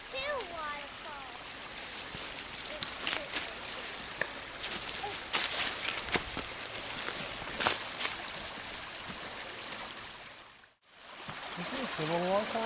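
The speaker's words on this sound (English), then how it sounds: "See a little waterfall right there?" A small waterfall spills off rocks outdoors, a steady close rush and trickle of running water beneath people talking, with footsteps and brush sounds.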